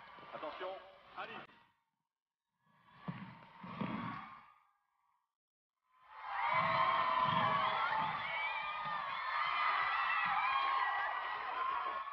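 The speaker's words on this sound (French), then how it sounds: "Un tonnerre d'applaudissements" Spectators at a Double Dutch jump rope competition erupt into dense applause and cheering after a short stretch of speech, the crowd noise swelling suddenly and staying steady and full for several seconds.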